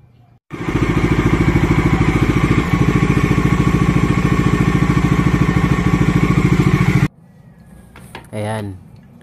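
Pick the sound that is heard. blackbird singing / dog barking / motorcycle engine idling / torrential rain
motorcycle engine idling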